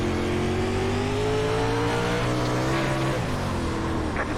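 Dirt late model race cars roaring around Lucas Oil Speedway in the iRacing video game, a loud continuous engine drone with steady pitch shifting downward as a car passes, no talk.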